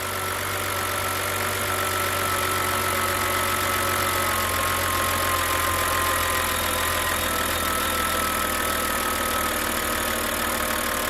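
A BMW N52 engine with 222,000 miles idles smoothly and evenly, a steady mid-low hum with faint high ticking running unchanged throughout, close and moderately loud with no other sounds.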